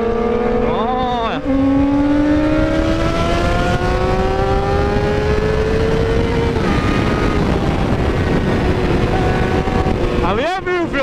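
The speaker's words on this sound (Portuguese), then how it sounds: "O cara acelera, parece que a moto não quer cortar nunca" A Honda CBR 600RR with only a straight pipe exhaust screams up through high revs under heavy wind rush. Pitch climbs in long, rising sweeps, and a sharp upshift blip comes near the end, loud and close.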